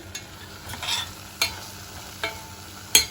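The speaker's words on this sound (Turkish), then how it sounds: "Şimdi tarçını ve cevizi ekliyorum. Karıştırıyorum." Apple filling with cinnamon and walnuts stirred in a pan on the stove for cookies, a few soft scraping strokes at irregular intervals over a faint low hiss.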